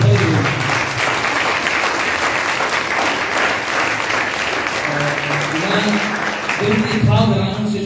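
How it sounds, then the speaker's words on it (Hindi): A church congregation applauds itself in a large hall, with loud, dense, sustained clapping throughout and voices rising underneath toward the end. "अपने लिए तालियां बजा रहे हैं"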